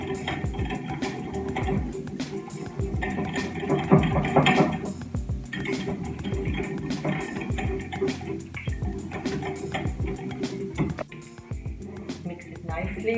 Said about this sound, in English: Now mix the gram flour in.